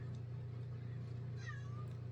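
A cat meows once, faint and short, over a low steady hum in a quiet room.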